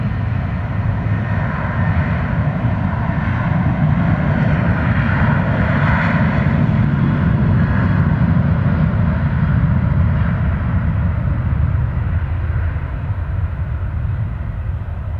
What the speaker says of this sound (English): It's Southwest Airlines heading up to Love Field.